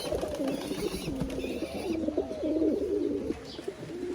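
Pigeons in a pigeon loft coo continuously, overlapping rolling calls close by and fairly loud, with no speech.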